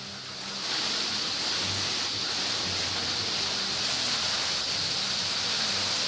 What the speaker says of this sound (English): And it's been hailing now for maybe 30 seconds